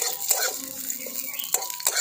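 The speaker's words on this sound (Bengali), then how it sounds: "নিম পাতাগুলো তেলের মধ্যে একটু ভালো করে ভেজে নিচ্ছি।" Chopped neem leaves frying in oil give off a bright sizzle, and a spoon scrapes and clinks against the pan as they are stirred, with a few sharp knocks in quick succession.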